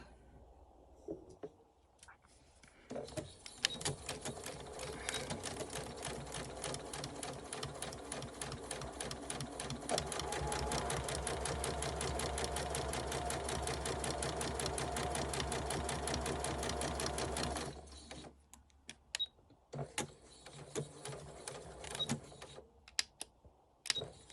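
A sewing machine stitches a 1/4-inch seam on a bucket hat crown, running in a fast steady buzz for about fifteen seconds, then stopping and restarting in short bursts, close up with no talking.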